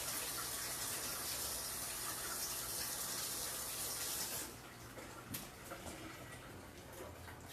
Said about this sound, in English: Going to rub my spoon under hot water.